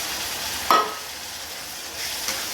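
Tomatoes and onions sauté in a pan with a soft, low sizzle, broken by a sharp stir or scrape near the start and another fainter one later, with no talking.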